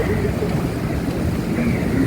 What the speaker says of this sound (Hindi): पानी के आवाज़ को भी एक बार सुने